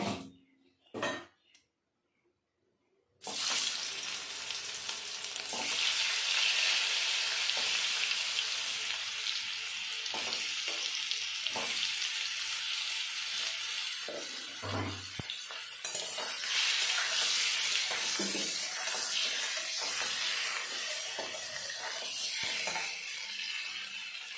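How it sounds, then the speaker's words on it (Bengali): Boiled potatoes fry in oil left after frying eggs for a Bengali spicy egg curry, a loud continuous sizzle that starts after a few soft clinks, with occasional stirring clatter and no talk. "ওই তেলে আমি সিদ্ধ করে রাখা আলুগুলো ভেজে নেব।"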